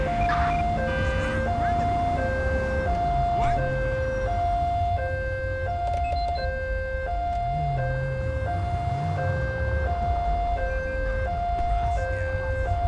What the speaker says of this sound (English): Whose siren is that?